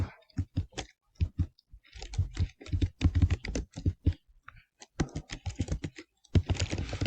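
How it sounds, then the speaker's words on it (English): Fingers tap out bursts of keystrokes on a computer keyboard, close and fairly soft, with short pauses between clusters of rapid clicks. "type in quarters."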